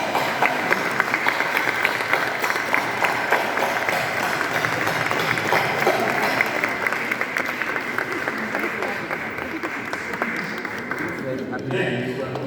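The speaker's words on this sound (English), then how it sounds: "join with me and my fellow benchers in giving the same heartfelt applause to your families and supporters." Sustained applause from an audience at a Call to the Bar ceremony honouring families and supporters, a dense steady clatter of many hands lasting throughout before easing off at the very end.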